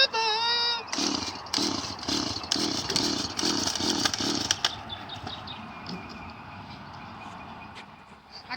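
A chainsaw cutting up a giant tree roars in loud, rhythmic bursts for the first half, then drops to a steadier, quieter idle while music plays in the background.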